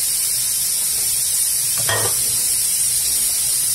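Angu cornmeal porridge is stirred in a pan over the heat, with a steady bubbling hiss throughout and one brief scrape of the spoon near the middle.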